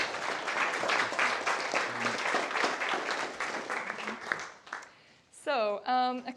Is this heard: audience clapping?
yes